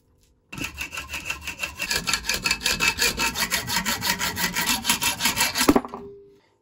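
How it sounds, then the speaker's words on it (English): A hand saw cuts down a homemade nut for a brake caliper rewind tool, with steady back-and-forth strokes in a fast even rhythm for about five seconds before stopping, close and alone. "And then we can cut this down and make our nut."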